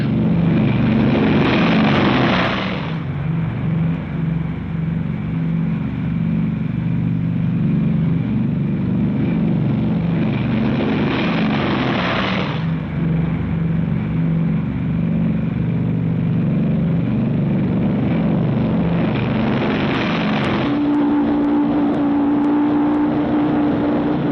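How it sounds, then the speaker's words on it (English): Boeing B-29 bombers with roaring propeller engines taking off, a loud continuous drone with a deep hum that swells and fades in waves, heard alone without talk. "B-29 takeoffs are a tough sweat."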